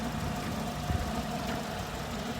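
A 2008 Renault Megane 1.6 MPI petrol engine idling steadily, a low continuous hum with a faint knock, close by and without voices.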